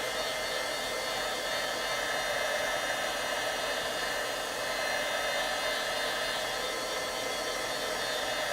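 A hair dryer or heat tool blows over craft paper to dry it before embossing, making a continuous, even whooshing hiss that stays constant throughout.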